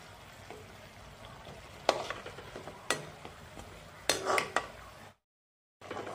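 Samosas shallow-frying in oil in a pan over a low gas flame, with a steady soft sizzle broken by a few louder stirring and turning scrapes and clinks, then a brief dropout.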